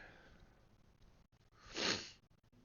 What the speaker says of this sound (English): I'm just sniffling all over this video.